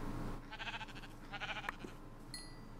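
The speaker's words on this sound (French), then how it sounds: "On va tuer le mouton." Minecraft sheep bleating twice in quick succession, short wavering calls up close against a quiet game background, followed by a faint chime.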